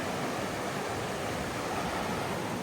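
A mountain creek rushing near a trail bridge, a loud, constant broadband roar of flowing water, close by and unbroken from start to finish.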